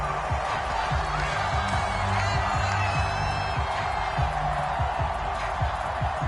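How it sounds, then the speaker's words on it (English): Home crowd cheering at a football game, a loud sustained roar of voices from a large stadium audience with whoops, heard under a commentator's voice. "This home crowd, they're happy with that call."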